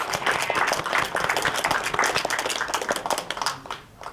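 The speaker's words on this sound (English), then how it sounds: "Round of applause." An audience at a poetry slam applauds in a dense burst of clapping that stays loud for several seconds and then fades quickly.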